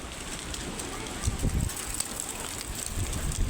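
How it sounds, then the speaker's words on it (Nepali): A windstorm at Burtibang blows steadily as broad roaring noise buffeting the microphone, with a few sharp gusts and knocks near the middle. "पुरै हावाहुरी चलिरहेको छ"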